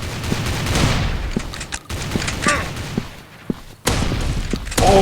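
Shotgun fire in a fast-paced shooter video game: several sharp, punchy blasts at irregular intervals amid a busy game mix, with a hard burst right at the end.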